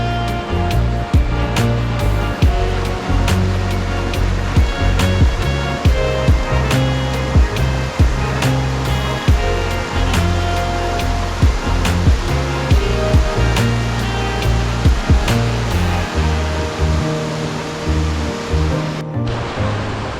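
Duchesnay Falls in North Bay, Ontario rushes in autumn, a loud, close, continuous roar of fast-flowing water with steady churning texture that stays constant throughout.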